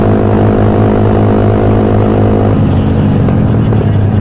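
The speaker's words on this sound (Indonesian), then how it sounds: "Suaranya kayak kipas gitu" A Suzuki Satria FU motorcycle gives off a fan-like whirring drone over a low steady engine hum, loud and close throughout, with a slight shift in tone partway through.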